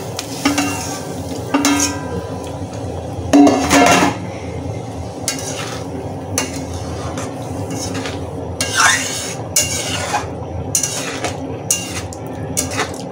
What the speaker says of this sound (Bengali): মাঝে মাঝে একটু নেড়ে নিচ্ছি বন্ধুরা, নাহলে নিচে লেগে যাবে।